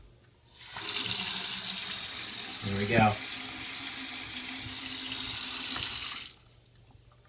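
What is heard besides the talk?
water running from Moen faucet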